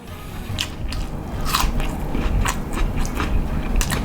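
Close, crisp crunching bites and chewing of fresh, washed fingerroot and ginger eaten alongside roast pork, repeated crunches in an uneven rhythm, loud and near with no speech.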